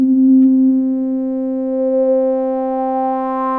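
A steady Omnisphere synth tone with a rich harmonic stack gradually brightens as the filter cutoff is raised and upper overtones open up, a smooth filter sweep rising over a few seconds.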